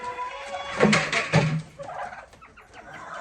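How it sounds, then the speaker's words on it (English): Turkeys gobble and fowl cluck close by, a couple of louder calls rising over a busy farmyard chorus of birds. "Chickens and turkeys everywhere."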